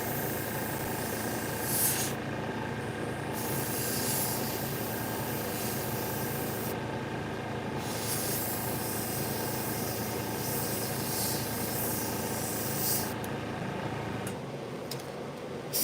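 Steady airbrush or spray gun hiss of overspray while painting a tiger, continuous and close, with brief pauses in the spray.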